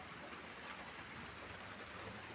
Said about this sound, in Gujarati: વરસાદ છે જોઈ લો ગામમાં